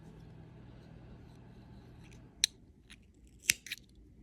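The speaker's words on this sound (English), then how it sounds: "When you just have one stitch left to bind off, you're going to grab some scissors and cut a tail." Scissors snip through the yarn tail of a knitted 2x1 rib headband, two or three short, crisp cuts after a quiet stretch, close up and alone with no talking.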